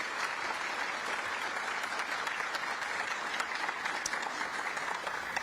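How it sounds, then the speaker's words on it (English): A dense crowd applauds at the State of the City Address in Duluth, thanking a police and fire color guard and a string group, with a steady wash of many hands clapping at even loudness throughout. "Can we give them one more round of applause?"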